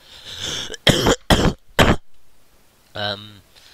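A person coughs several times in quick, sharp bursts, followed after a pause by a short throat-clearing grunt.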